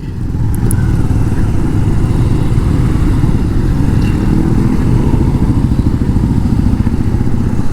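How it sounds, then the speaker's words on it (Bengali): Dense motorcycle traffic on a street in Pokhara, Nepal, with many bike engines droning and revving continuously at close range, steady and loud throughout without talk. "Bike R bike."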